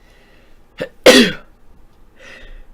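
A single loud, close sneeze, preceded by a short sharp intake, followed by quiet, with a faint voice after it.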